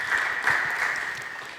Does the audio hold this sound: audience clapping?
yes